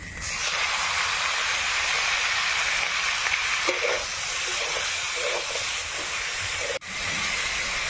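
Washed chicken sizzles loudly as it goes into a pan of softened onion with ginger and garlic paste, a steady hissing fry with small pops and one brief dip near the end, no talking.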